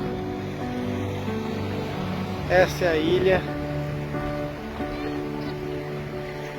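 Boat sailing across Indian Ocean waves toward Buene Island, a steady low engine-and-surf rumble throughout, with a person speaking briefly over it.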